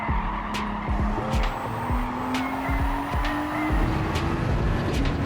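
A Nissan GT-R on the Nürburgring in Gran Turismo 7 brakes hard and accelerates again, engine note rising steadily with tire squeal and short mechanical clicks of gear shifts throughout, close and continuous.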